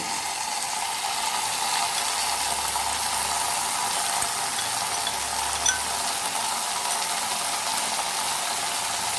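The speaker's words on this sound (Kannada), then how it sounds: "ಹೈ ಫ್ಲೇಮಲ್ಲೇ ಫ್ರೈ ಮಾಡ್ಕೊಳ್ಳಿ" Vegetables for Schezwan fried rice frying on a high flame, giving a dense, continuous sizzling hiss at steady volume throughout.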